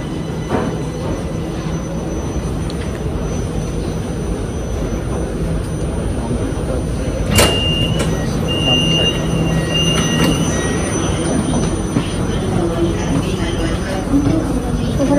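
Inside a moving MRT train in Kuala Lumpur, a constant rumble of wheels on track runs throughout, with a sharp click and brief high whining tones midway, while people talk over the noise.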